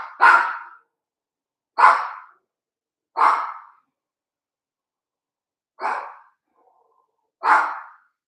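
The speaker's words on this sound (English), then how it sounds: "So a car backfired down the street and triggered my dog." A single dog barks five times in separate loud, close bursts, roughly one to two seconds apart with a longer pause mid-sequence, after a car backfires down the street.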